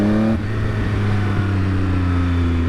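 A 2020 Triumph Speed Triple RS naked motorcycle's engine hums close by in a steady, even drone after a brief shift in tone at the start, with the pitch sliding gently lower and then holding.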